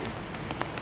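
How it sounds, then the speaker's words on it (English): Rain falls outdoors in a steady, soft patter with a few slightly sharper drops, lasting under a second, with no voices. "It's raining too."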